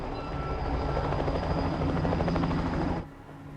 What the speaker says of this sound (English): May 13th, a helicopter finally dispatched to Mangwalu.